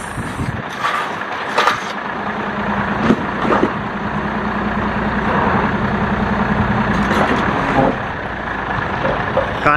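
A car transporter truck lifts a BMW onto its deck, its heavy engine idling steadily with hydraulic whine and scattered clanks close by, no talk heard.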